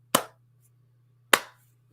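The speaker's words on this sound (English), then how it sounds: "Slow clap." Two slow, deliberate hand claps, about a second apart, close and crisp, each ringing briefly over a steady low electrical hum with silence between them.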